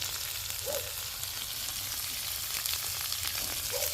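Butter sizzling on ribeye steaks cooking on a disco, a steady close frying hiss with faint crackles throughout and no voices.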